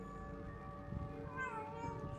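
A cat gives a few soft, drawn-out meows over faint background noise, fairly quiet and close, with no voices.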